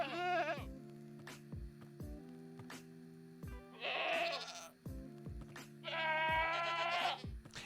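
Minecraft goats bleat in a video game, with three separate wavering, nasal bleats spread across the clip over a quiet backdrop of repeated soft game tones and clicks.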